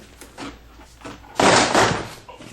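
Plastic trim panel being prised off the door of a 2011 Ford Fusion, a loud burst of clips popping and scraping at close range after some quieter handling knocks and rustles.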